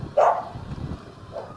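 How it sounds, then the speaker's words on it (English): A single stray dog bark rings out in a neighborhood, followed by a fainter second bark a moment later, somewhat distant, with no talking. "there's just a lot of stray dogs"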